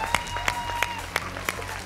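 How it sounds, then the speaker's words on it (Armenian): A gala show audience in a hall claps in a thin, rhythmic pattern, a handful of evenly spaced sharp claps over a low room hum and murmur. "Ուզում եմ ամբողջ դահլիճով ինձ հետ նաև կանխավ ծափահարենք Նաիրա Գյուրջինյանի խոհարարական արվեստի բոլոր դրսևորումներին"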